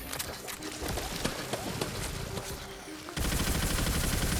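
Rapid bursts of gunfire come from basic guns in the fantasy looter-shooter video game Tiny Tina's Wonderlands, with sharp repeated shots across the clip. A denser, louder stretch of combat noise follows near the end, and there is no talk.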